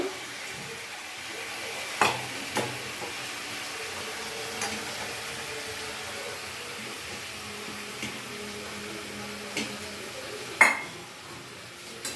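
Ginger goes into a pan and is stirred and fried, with a soft sizzle underneath and scattered metallic clinks of a utensil against the pan, including one sharper knock near the end.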